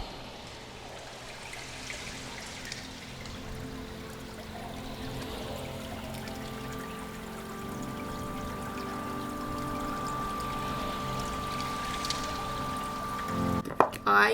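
Water pours steadily from a shower during a double hair wash with L'Oreal Everpure Thickening Shampoo, a continuous close rushing that swells slightly toward the end, with a brief clatter at the close.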